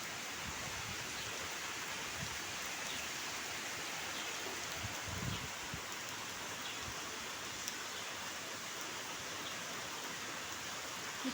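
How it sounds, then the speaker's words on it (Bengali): Heavy rain pours over an open field in Kolkata, a dense, even hiss continuing without a break at a fairly distant, moderate level with no talking. "কলকাতাতে না প্রচুর বৃষ্টি হচ্ছে"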